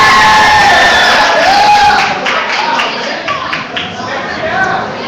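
Wrestling fans in a crowd at a Black Diamond Wrestling event cheer and shout continuously, loud and close, with whoops rising over a dense roar that dips slightly partway through.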